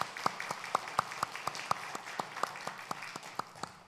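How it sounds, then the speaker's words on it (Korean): A congregation in a Korean church claps in a steady, even rhythm of about a dozen sharp beats, moderately close and fairly quiet, with no talk over it. "참 하나님 앞에 영광의 박수를 한번 올려드리십시오."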